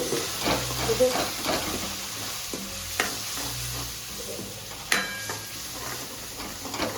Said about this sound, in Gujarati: હવે આપણે કરી દઈશું મિક્સ.